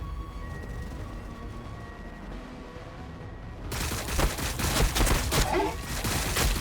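Gunfire in the video game Warhammer 40k Battle Sector: after several seconds of quiet ambience, a dense, loud barrage of rapid shots bursts in and keeps rattling to the end.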